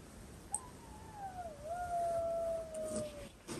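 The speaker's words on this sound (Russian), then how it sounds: "О, слышу, воет кто-то." A dog howls faintly in the distance, one long wavering cry that slides down and rises again over quiet outdoor background.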